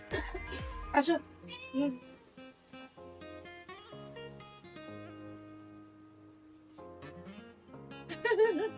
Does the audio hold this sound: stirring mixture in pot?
no